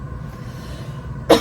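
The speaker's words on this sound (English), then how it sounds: "So, yeah, I cough sometimes." A person gives a single short, sharp cough near the end, set off by powdery worm castings from a home vermicompost bin. Before it there is only quiet room noise.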